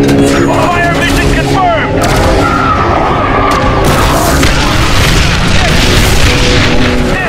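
Heavy artillery shells burst in a firestorm battle in The Bureau: XCOM Declassified, a dense barrage of booming blasts and crashing debris over the din of combat, with voices calling out in between.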